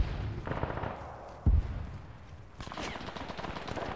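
Artillery and gunfire boom through an Arma 3 battle, one heavy close thump standing out midway, followed by a burst of crackling fire, with a faint voice in the background.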